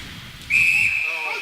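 A referee's whistle at a high school varsity hockey game during a preseason invitational tournament: one loud, sharp, sustained blast that cuts in over low rink noise and holds steady for almost a second.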